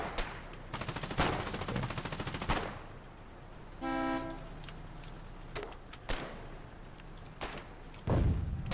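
Gunfire in the war game Foxhole: a rapid machine-gun burst up front, then scattered single shots and loud cracks spread through the battle, with a brief horn-like tone midway and no talk.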